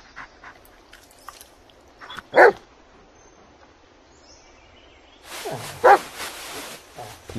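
A dog in the VR horror game Blair Witch VR gives two sharp, close barks a few seconds apart amid quiet rustling forest ambience.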